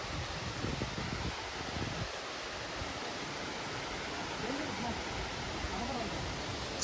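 Waterfall near Ponmudi, a steady broad rushing roar of falling water heard from a short distance, continuous throughout, with faint voices and a rustling undertone beneath it.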